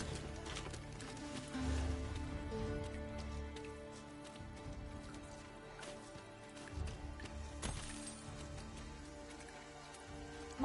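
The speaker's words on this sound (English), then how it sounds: "Mind the rain, Master. The weather may yet turn fierce." Steady patter of rain with scattered drops under a layer of music in the video game Dragon's Dogma 2, continuing at a moderate level throughout.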